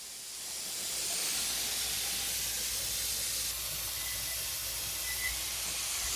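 Steady, loud hiss of steam escaping under pressure from a pressure canner, continuous and unbroken throughout.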